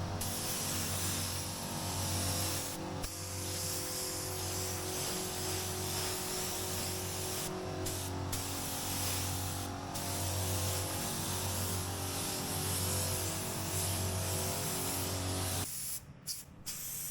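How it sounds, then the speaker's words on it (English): A paint spray gun lays a light drop coat of metallic base coat over car body panels on a Land Rover Defender 90, a loud, steady hiss running almost unbroken with a brief break near the end. "Last but not least, I apply a drop coat. So this is just a light dusting over the panels"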